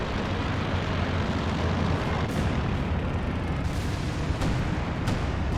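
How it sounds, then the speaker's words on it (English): A plane crash explosion in the World War II strategy game Company of Heroes 2 during a 2v2 match: a dense, sustained roar of blasts and rumbling battle noise, loud and continuous throughout with no talk. "Plane crash, but luckily didn't hit any of your forces."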